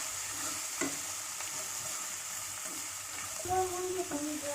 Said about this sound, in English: Now we are going to add chopped onions. Let us fry it till it turns golden color.